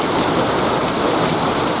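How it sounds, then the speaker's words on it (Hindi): Heavy rain pours down in a dense, loud, continuous hiss and patter, steady throughout with no voices. "बारिश बहुत ज़्यादा तेज़ हो रही है, आप कैमरे में देख सकते हो"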